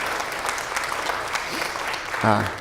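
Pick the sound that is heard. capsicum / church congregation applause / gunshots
church congregation applause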